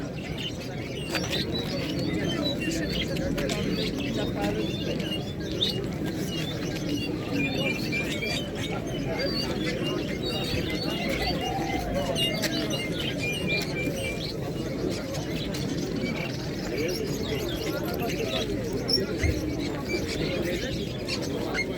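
Pigeons cooing and chirping amid the constant murmur of a busy outdoor Saturday pigeon and poultry market in Tczew, Poland, with the bird calls mixed into dense crowd noise and chatter throughout.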